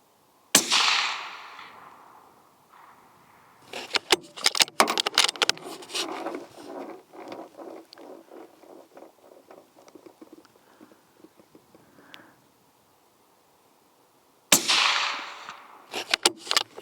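A rifle fires at a distant target outdoors in wind. There are two sharp, loud cracks about fourteen seconds apart, each followed by a long rolling echo, with scattered quieter knocks and shuffling between them.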